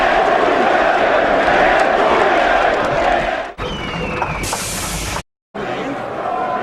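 A packed boxing arena crowd roars and cheers after Steve Cunningham versus Tomasz Adamek, a loud sustained roar that drops away before briefly cutting out.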